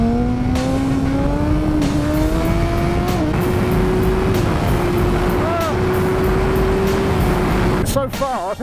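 A 2018 Suzuki motorcycle is ridden hard on a race track, its engine droning loud and close as it climbs through rising revs and gear changes, with a brief burst near the end.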